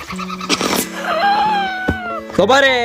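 A cat meows in a drawn-out, wavering caterwaul, then gives a second, rising cry, close and loud, with a person talking over it.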